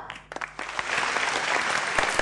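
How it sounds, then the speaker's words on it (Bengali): Applause from a TV talk show studio audience at a Bengali game-style show, starting thin and scattered, then swelling into steady, fairly loud clapping from many hands that carries to the end. "আরে হাততালি দাও।"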